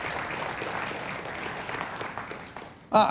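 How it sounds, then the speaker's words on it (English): Audience applauding at a live talk event, steady broadband clapping from a crowd for about three seconds, then a brief louder sound at the very end. "give them a round of applause as well"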